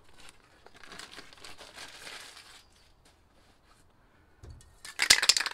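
A crinkled sheet of paper is rubbed over wet spray paint and then peeled away, giving faint soft rustling followed by a sharper, louder crackling burst near the end.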